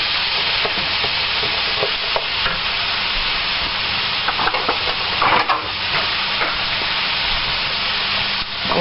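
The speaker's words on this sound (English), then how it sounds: "I'm going to cook that right in there with the ground beef" Ground beef and onion fry in a pan with a steady, close sizzle, broken now and then by the scrape and clatter of stirring.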